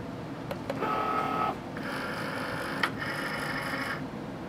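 A Cricut Maker cutting machine fitted with a rotary blade pulls in a fabric mat, giving two whirring motor bursts separated by a pause and a click, all close and fairly quiet.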